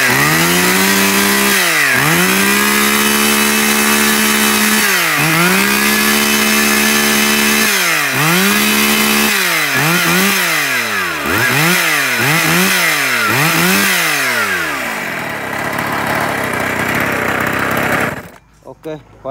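Echo V3800 chainsaw fitted with a fuel primer pump, its small two-stroke engine revving up and dropping back in repeated bursts, then a run of quick throttle blips before it winds down and cuts off near the end.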